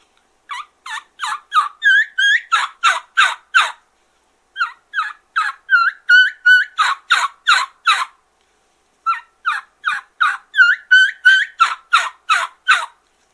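Competition turkey caller imitating a hen: squealy opening notes, a short couple-note whistle, then a loud rhythmic series of yelps, repeated in three close, clear bursts with brief pauses and no talk.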